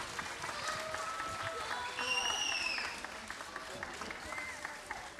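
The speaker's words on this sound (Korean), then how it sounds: "뜨거운 박수로 하나님께 영광 돌리겠습니다" Warm applause from a church congregation at a Friday prayer meeting, a steady wash of many hands clapping at moderate volume throughout, with voices and some tonal sounds mixed in.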